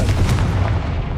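A Confringo blasting spell cast in Hogwarts Legacy, heard as a dense, loud rumbling boom with sharp crackling bursts that fills the whole moment and fades slightly at the end.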